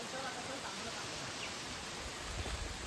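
Rain falling steadily on a monsoon trek at Harishchandragad Fort in the Sahyadri hills, a continuous broadband hiss with no distinct drops, faint and even throughout.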